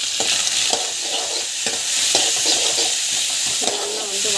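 Grated coconut sautéed in hot oil in a pan for coconut chutney, giving a steady loud sizzle broken by repeated stirring scrapes, close and continuous with no talk.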